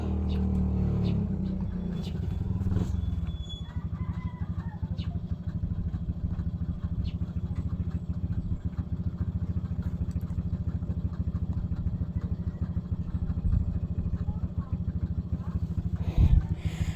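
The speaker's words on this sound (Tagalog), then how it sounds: "mayroong motorsiklo na huminto sa tungod sa balay" A motorcycle engine idles steadily outside a house, a low continuous rumble with light clatter, stopped close by for a long stretch.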